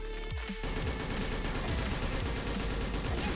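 An FAL-Infested rifle sprays sustained automatic fire in a shooting game, with rapid, even shots repeating throughout at close range and loud.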